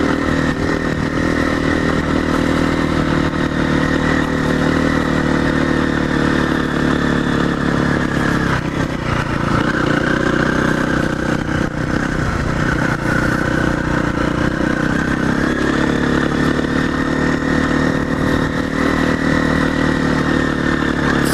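A dirt bike's engine runs continuously at an off-road riding area, a loud, close, steady drone with occasional clatter and faint shifts in pitch throughout.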